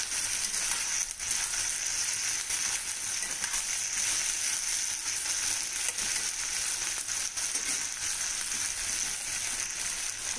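Steady pan-frying sizzle as ingredients cook down until translucent, a continuous bright hiss held at even loudness throughout with no voices.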